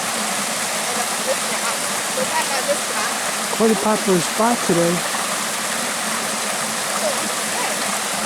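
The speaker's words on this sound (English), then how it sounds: "Right in the waterfall." Eternal Flame Falls in Chestnut Ridge Park, Orchard Park, is a creek waterfall on a Christmas hike. Its water gives a steady, broad rushing wash throughout, and someone speaks briefly over it midway.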